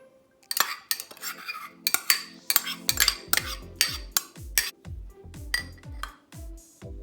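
Ham dropped into a bowl of chicken macaroni salad with metal utensils, giving a quick run of sharp clinks and scrapes, then steady rhythmic taps of spoon against bowl, close up with no talking.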